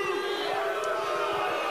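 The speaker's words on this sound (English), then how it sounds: "Now they're outright booing." Crowd booing at a block party, a sustained low jeering drone from many voices mixed with scattered shouts, steady and fairly loud.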